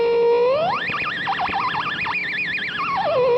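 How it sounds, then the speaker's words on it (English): A squealing electronic feedback tone from a guitar pedal glides upward, then wobbles and warbles in pitch like a theremin, sweeping high and sliding back down, loud and alone. "can also get it feeding back and use the thing almost like a theremin."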